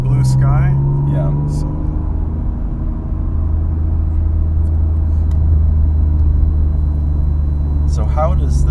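Interior of a car driving in traffic on a nice day, a steady low engine and road rumble throughout, close and constant, while people talk over it at the start and end.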